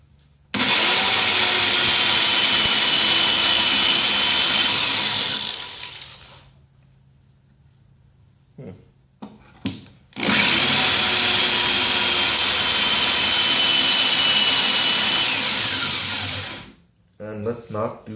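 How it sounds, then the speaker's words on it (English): A Ryobi power drill fitted with a half-inch bit boring holes to mount a vise, two long loud whirring bursts of about five and six seconds separated by a quiet pause with brief clicks and handling noises. "And anyway, let's go drill."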